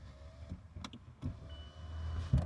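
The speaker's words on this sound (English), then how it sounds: "Roll up the windows." Power windows on a car rolling up, heard as a short, low electric motor whine that rises briefly near the end amid a busy grocery-store parking lot background.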